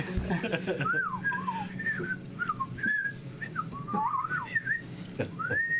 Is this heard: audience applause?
no